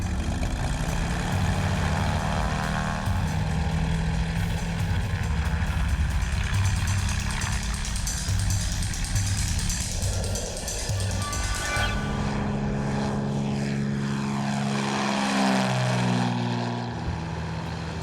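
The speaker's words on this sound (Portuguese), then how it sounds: "à medida que o avião sobe" A propeller airplane climbs, its engine and airscrew droning loudly and steadily before shifting in pitch as it gains height, with no talk over it.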